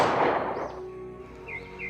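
A single gunshot at a Japanese military camp bursts loudly at the start, then rings and fades into a quieter tail with faint tonal sounds.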